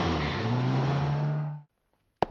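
A car engine roars steadily for about a second and a half, then cuts off abruptly, followed by near-silence and a single sharp knock, with no talk.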